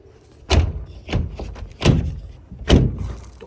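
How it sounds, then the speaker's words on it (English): A van door is shut several times, giving three or four solid, heavy thuds spaced about a second apart, close and loud, with no talking. "Door sounds solid."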